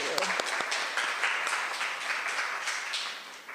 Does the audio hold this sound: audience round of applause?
yes